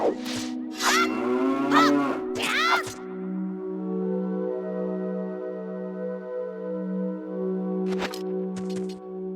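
A cow in Ocarina of Time gives a long, loud moo with a steady drawn-out tone, following a few sharp game effects near the start, with brief clicks toward the end.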